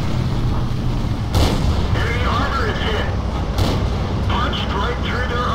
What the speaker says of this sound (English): Oh, I love the rate of fire of this gun.